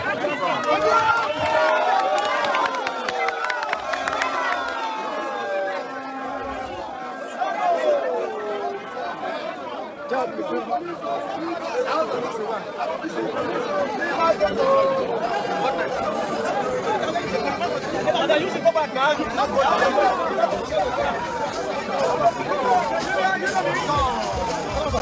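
Supporters at a political rally in Edo State fill the air with a continuous loud hubbub of crowd chatter, shouting and overlapping voices, steady throughout with no clear pauses.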